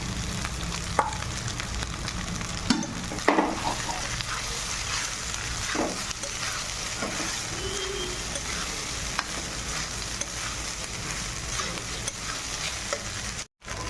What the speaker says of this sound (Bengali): দেখো এইভাবে ভাতটাকে আমি ভেজে নেব